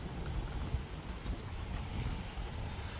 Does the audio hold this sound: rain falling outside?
yes